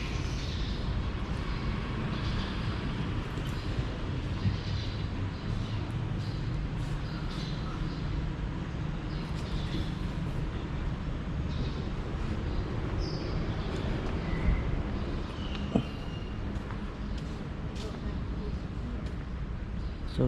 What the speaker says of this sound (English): So this is a little station at Udon Thani.